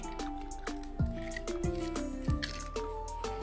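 An egg goes into a gulab jamun dough made with dried milk and ground cardamom, giving close, soft wet squishes and drips in an irregular rhythm with no talk.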